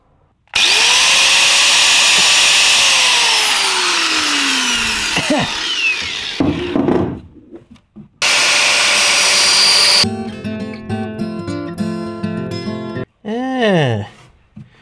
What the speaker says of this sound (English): Now I just need to grind these off.